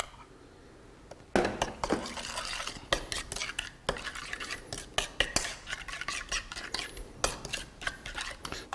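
A spoon scrapes and clinks steadily against a bowl while stirring a soy sauce and sugar marinade with pear juice for Korean beef, producing close, rhythmic scraping and tapping after a brief quiet start.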